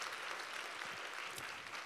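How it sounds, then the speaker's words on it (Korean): A church congregation applauds performers, a steady, even patter of clapping heard at a distance and fairly faint throughout the short stretch. "우리 이분들한테 한번 박수 한번 쳤으면 좋겠습니다"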